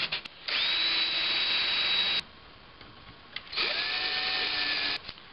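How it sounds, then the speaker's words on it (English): Power sander smoothing wooden cup holder parts, two loud steady bursts of whining, buzzing sanding separated by a short pause, close up with no talking. "I'm just going to give everything a nice sanding to get rid of rough spots"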